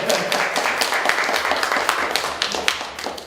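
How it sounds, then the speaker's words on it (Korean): An audience at a social enterprise forum in Korea claps loudly and continuously, a dense patter of many hands close at hand with small sharp peaks scattered throughout. "박수 쳐주실 줄 알아요."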